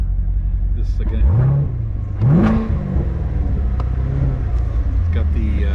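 A 2019 Chevrolet Corvette Grand Sport C7 coupe with performance exhaust cranks and fires, then revs up twice with rising growls before settling into a steady idle rumble nearby.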